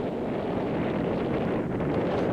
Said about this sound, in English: It was definitely already windy.